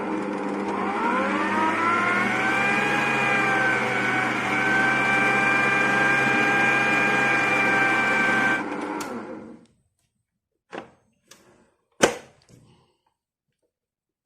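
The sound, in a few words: whisking 500 ml of warm water mixture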